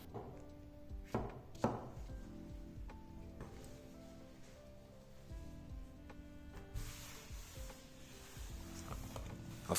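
Okra being sliced with a knife on a board, old pods with blackening seeds, for Jamaican saltfish rundown; close, irregular taps and cuts without talk.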